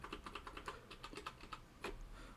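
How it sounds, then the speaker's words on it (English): Rapid, light key clicks on a computer keyboard come in a quick, even run of taps, close and quiet, with a brief pause before a final stronger press. "going to press or type test"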